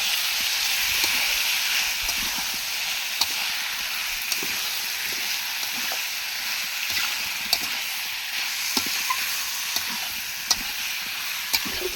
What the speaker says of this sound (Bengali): এর মধ্যেই রয়েছে আলু, টমেটো, মাংস একসাথে, সব একসাথে আমি কষে নেব